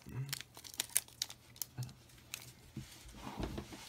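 A Pokémon Rayquaza booster pack's foil wrapper crinkles and tears in short, sharp bursts, close and fairly quiet, with brief pauses between rips and some voice in the background.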